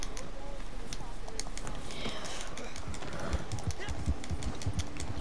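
Horse hooves clip-clopping through snow in the video game Red Dead Redemption 2, a steady galloping rhythm under game ambience and someone talking.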